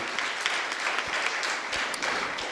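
A large crowd at a Jain religious gathering claps steadily in honour of children, a dense, even wash of applause at moderate distance with no speech over it.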